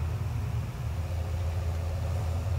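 A tractor engine idles in Farming Simulator 17, a steady low rumble that holds even and continuous, close and fairly loud, with no voices.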